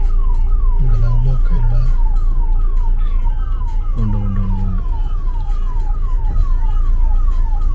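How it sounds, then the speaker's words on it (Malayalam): An ambulance siren wails steadily on the Zoji La mountain road in Kashmir. The loud, rapidly repeating sweeps continue throughout, with a couple of short horn-like blasts mixed in. "ഇതൊരു ആംബുലൻസ് ഒക്കെ കുറിച്ച് പോകുന്നുണ്ട്."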